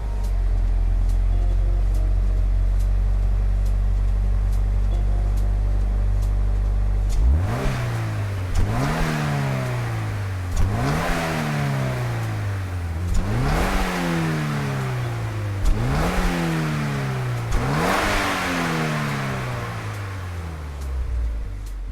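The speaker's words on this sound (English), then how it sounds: "This interesting sound comes from the Mazda CX-30 Smart Edition from 2021" A 2021 Mazda CX-30 Smart Edition engine in Gran Turismo 7 idles low and steady, then revs through a run of repeated gear-change climbs, each pitch rising and dropping back in a rhythmic sawtooth, loud and close with no talk.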